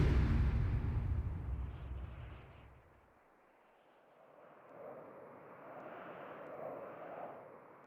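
A plane engine in Grand Theft Auto 5 gives a loud, low roar that fades into a quiet lull, then builds again into a softer, droning hum.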